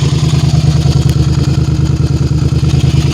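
A Suzuki SV650S motorcycle with a Two Bros Racing exhaust idles close by, a steady, loud, even throbbing pulse that runs without a break and with no voices.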